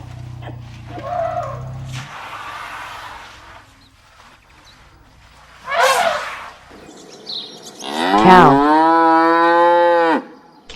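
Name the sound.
cow mooing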